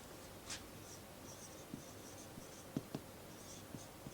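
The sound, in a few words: writing out a rule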